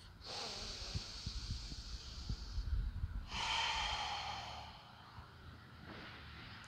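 A slow, deep breath during a yoga session: a long breathy inhale followed by a fuller exhale, close and soft, with no talking.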